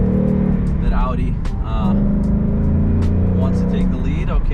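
An Audi driving past on a street, heard from inside another car as a steady engine and road rumble with a rising whoosh, loud and close, while a person talks over it.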